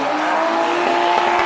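Drift car powered by a Nissan Skyline RB engine at a drift event, a loud sustained engine roar with steady tonal whine and tire noise throughout, close and continuous.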